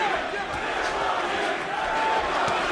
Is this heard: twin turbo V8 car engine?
no